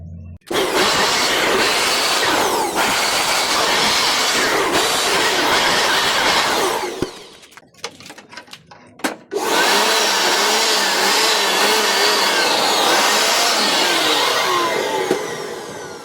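Handheld blower blasting air through a window-type air conditioner during cleaning, a loud whooshing roar that cuts out briefly midway with a few clunks, then resumes steadily, with no talk.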